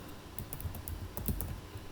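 Someone types on a computer keyboard, a quick run of light, close key clicks in an irregular rhythm over a quiet room hum.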